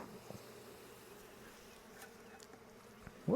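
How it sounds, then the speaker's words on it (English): Honey bees buzzing inside an open beehive during an inspection, a dense, steady hum of many insects close by, with occasional louder passes and a handling bump at the end. "it's a lot of bees in here."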